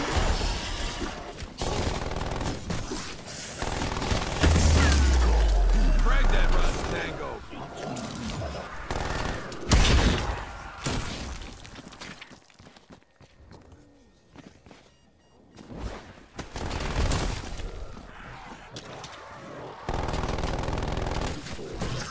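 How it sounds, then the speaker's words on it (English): A sentry turret in a zombies video game fires in repeated rapid bursts, mixed with loud game effects and a person talking over the action. "Sentry turret ready to fire."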